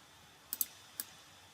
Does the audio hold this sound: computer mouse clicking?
yes